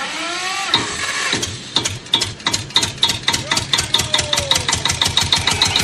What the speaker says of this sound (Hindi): ए जनरेटर चालू कर रहे